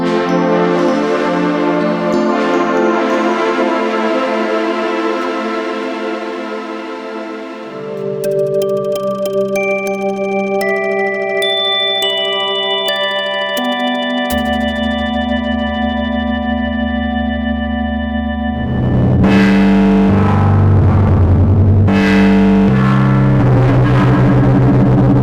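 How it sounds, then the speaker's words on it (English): A Korg Volca FM2 synthesizer plays through Korg NTS-1 mkII effects: sustained FM chords and bright tones shift in steps, ending in a thicker, louder, distorted passage. "all the effect sounds are coming directly from the NTS-1 Mark II"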